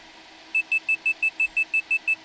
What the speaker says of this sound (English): So that is the overspeed alarm.